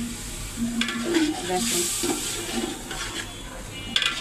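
Spices for bhuna khichuri sauté in a pan, with a continuous moderate sizzle and scraping stirring strokes close up; a voice speaks briefly.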